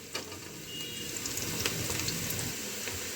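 Onions sizzling in a pan for a dry potato and fenugreek bhurji, a steady, close crackling fry with light scraping from stirring and no talk.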